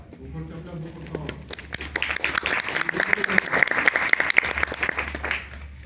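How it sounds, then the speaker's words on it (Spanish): An audience claps to welcome a speaker at a vaccination talk, a dense rising patter of hands that builds over several seconds and then fades. A voice speaks over the opening moments. "Un fuerte aplauso, por favor."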